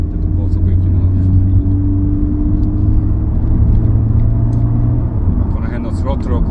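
Inside a Toyota 86 speeding up on a highway as the throttle opens, the engine gives a steady, rising drone with a low road rumble, while someone talks over it.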